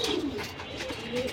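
A pair of silver pigeons, a breed bred with Madira feathering, coo softly and continuously at close range, their low rolling calls layered over faint background noise with no one speaking.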